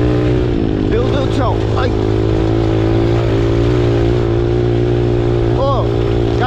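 A mini motorcycle engine revs on a dirt trail, loud and close with a steady drone and rising throttle bursts, while excited voices shout over it.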